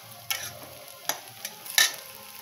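Slit green chillies hit a pan of frying aubergine in oil, giving a quiet low sizzle punctuated by three or four sharp crackling spits and stirring clinks, close and without voices.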